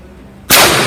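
A Smith & Wesson 15-5 revolver fires a single loud shot at an outdoor range, the sharp blast striking suddenly halfway through and its echo lingering to the end, with no talking.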